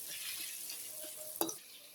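Onion with bay leaf and small and large cardamom frying in a pan, a soft continuous sizzle with a brief clatter of stirring near the end, fairly faint and close.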